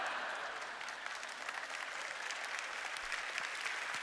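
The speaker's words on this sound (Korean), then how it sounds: "하나님께 영광의 박수 올려드립니다." Church congregation applauding at an evening mission conference gathering, dense steady clapping from a large crowd filling the room, continuous and fairly even throughout.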